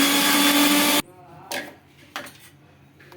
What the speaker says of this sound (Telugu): వేసి బాగా స్మూత్గా గ్రైండ్ చేసుకోవాలి